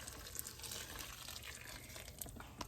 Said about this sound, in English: And now we're going to put boiled water. Needs to be really hot.